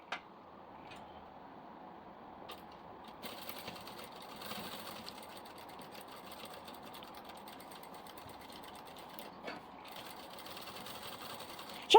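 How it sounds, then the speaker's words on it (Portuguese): Sewing machine running a stitch around the edge of a dark-fabric diaper bag, a faint, steady mechanical hum heard from some distance throughout, with a few soft clicks. "Vou passar uma costurinha em toda a volta aqui"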